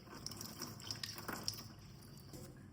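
Fresh coriander leaves being washed in clean water while a Kathiyawadi stuffed bitter gourd curry is prepared. Quiet splashing and dripping come with small clinks, close by and soft, with no voices.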